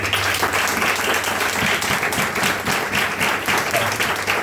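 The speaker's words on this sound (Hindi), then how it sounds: "अभी ईमानदारी की ताली बजाते" A church congregation applauding during a sermon, dense steady clapping from many hands filling the room at even loudness throughout, with faint voices mixed into the crowd.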